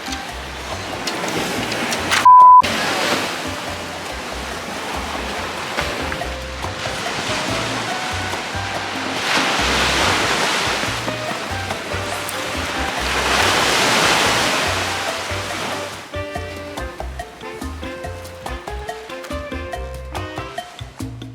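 Ocean waves wash onto a beach at high tide, rolling surges swelling and fading over about twenty seconds, loud and close, with some clicking handling noise near the end.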